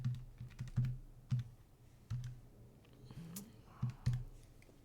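Fingers pressing calculator keys to enter numbers, a string of quick clicks in short bursts with brief pauses, close and fairly quiet.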